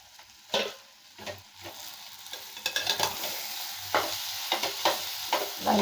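Potatoes and salt stirred in a frying pan, a spatula scraping in uneven strokes over a steady close sizzle, with a few sharper clacks against the pan.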